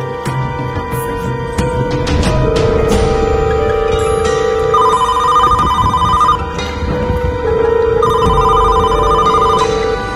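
A mobile phone ringtone plays from inside a bag in repeating melodic phrases, loud and steady, with a voice talking underneath.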